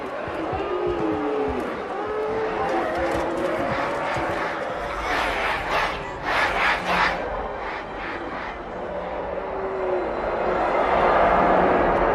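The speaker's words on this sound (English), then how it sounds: "Quite a crowd." A large crowd cheering and shouting at a distance, a steady roar of many voices swelling with whistles and yells, growing louder toward the end.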